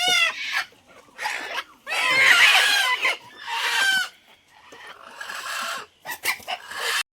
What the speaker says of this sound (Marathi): तर आता आपण कोंबड्या पॅक करून घेऊया आणि त्यांना देऊया